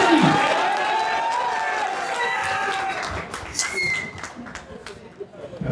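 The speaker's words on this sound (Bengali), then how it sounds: "জোরে তালি আপনারা চাই।" An audience at an iftar fan-club gathering for cricketer Taskin Ahmed claps steadily with some crowd noise, while a voice speaks over the applause at the start.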